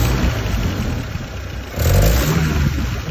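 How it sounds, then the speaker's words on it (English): A Land Rover Series 3 engine revs hard at full throttle, a close, steady mechanical roar that dips briefly and then surges louder again, with a slight splutter. "It sort of splutters when you put full throttle."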